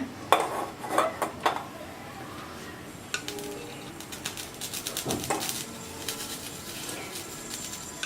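Metal pots and utensils clank a few times as a pot is set on a lit stove, sharp clatters followed by quieter scrapes and light kitchen handling.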